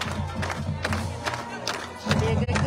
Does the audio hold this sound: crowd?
yes